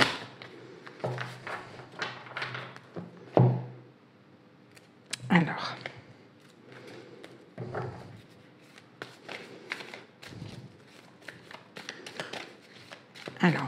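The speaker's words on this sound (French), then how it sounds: "on va faire la coupe et je vais prendre 3 cartes" Tarot cards shuffled, cut and drawn during a reading, with soft papery riffles and slaps at close range in irregular bursts, a sharper snap near the middle, and quiet background sound between the handling.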